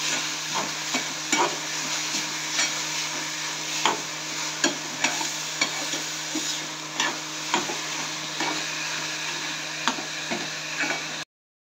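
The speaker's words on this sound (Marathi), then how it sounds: "गूळ टाकल्यानंतर हे सर्व व्यवस्थित मिक्स करून घ्यायचं आहे।" Steady stirring of pigeon pea vegetable with jaggery and turmeric in a pan, a soft continuous scraping with regular spoon taps against the metal over a low hum.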